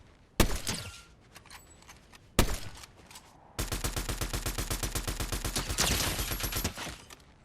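Auto shotgun fire in Fortnite, a video game: a single loud blast, then a second, then a long rapid volley of evenly spaced shots, all close, loud and without talk.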